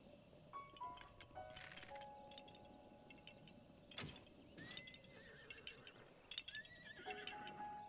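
A horse whinnies and neighs in The Legend of Zelda: Breath of the Wild, with soft clip-clop hooves and chiming game effects over a quiet outdoor ambience.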